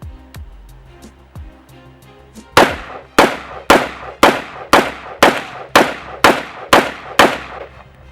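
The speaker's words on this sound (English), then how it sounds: "I'm going to shoot it from the cheek." A 300 Blackout AR pistol fires ten remanufactured rounds in a steady string, loud, sharp reports evenly spaced about half a second apart, each with a brief ringing tail, after a few quiet metallic clicks.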